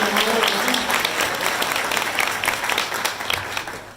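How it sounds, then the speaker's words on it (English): An audience applauds at the inaugural ClimateCon, a climate innovation conference, following a piano performance: dense, steady clapping from a large crowd that fades slightly toward the end. "Can we get a round of applause for Wynn?"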